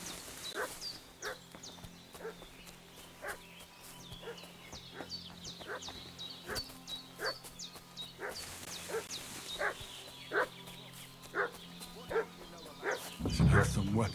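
A dog in the video game Kingdom Come: Deliverance II barks and yips in a steady run of sharp calls with some whimpering, heard at moderate distance over a low ambient bed, with a loud thump near the end.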